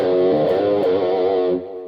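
An electric guitar runs through an MXR Rockman X100 on its Edge overdrive setting, a strummed chord ringing with a rich, saturated harmonic tone that sustains for about a second and a half before being cut short.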